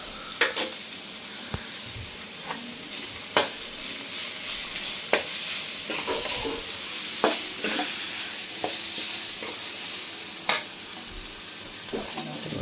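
Garlic sizzles in a frying pan with cumin, a steady, close hiss broken by sharp clicks and scrapes from stirring, with no talking.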